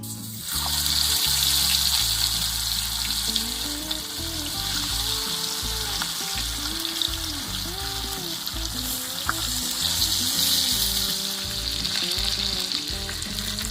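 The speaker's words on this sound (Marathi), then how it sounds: "आता ते पण तळून घेते." Fish sizzles and spits steadily in hot oil in a frying pan, a loud, continuous crackle with occasional stirring and clinks and no talking.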